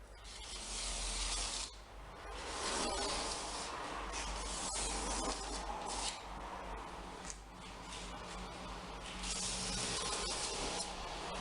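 A razor blade scrapes yacht varnish off an oak worktop in repeated close, hissing strokes of uneven length, with no talking.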